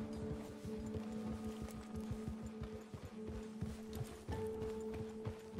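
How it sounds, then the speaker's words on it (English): Horse hooves clip-clopping in Red Dead Redemption 2, a steady regular beat of hoof falls at a walking pace over a low tonal hum, moderately quiet and continuous. "It's my horse."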